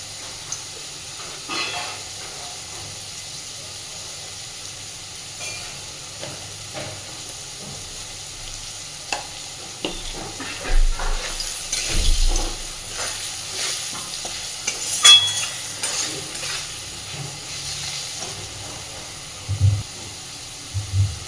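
Papad curry stirred with turmeric powder in a frying pan, a steady scraping and sizzling hiss with irregular clinks and louder stirring bursts in the second half, close and alone without talk.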